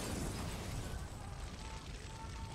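A grenade explodes in the video game Far Cry 5, a muffled distant-sounding boom with rumbling low end that lingers under a faint broad hiss.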